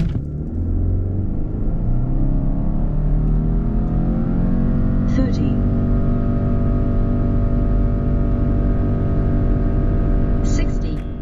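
A Subaru Outback accelerates hard in a 0-60 run, its engine a loud close cabin drone with rising harmonics that sweep upward and drop at gear shifts, steady throughout.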